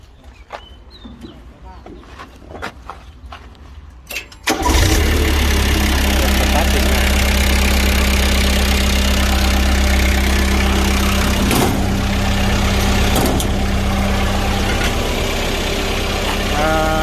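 An Isuzu diesel engine on an Aichi SP120 boom lift truck cranks and starts, then settles into a loud, steady close idle that runs to the end.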